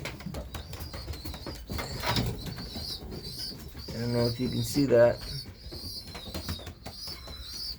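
Racing pigeons coo in a loft, soft rounded calls rising mid-way with some wing flutter, while someone talks nearby.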